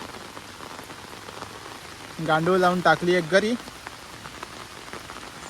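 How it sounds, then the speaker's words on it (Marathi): Steady heavy monsoon rain pattering on a surface throughout in the Konkan countryside, with someone speaking briefly over it in the middle. "पाऊस पडतोय जोरात"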